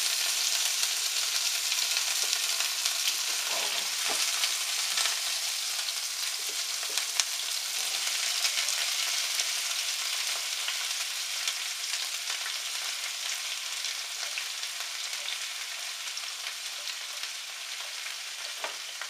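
Peppers and onions for Spanish rice fry in a pan with a constant bright sizzle that runs unbroken throughout, now and then joined by faint stirring clicks.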